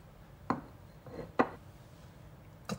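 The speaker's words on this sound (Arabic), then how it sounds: "قطعت البصل" A knife chopping a small onion on a board, three separate sharp cuts spaced about a second apart against quiet surroundings, no talking.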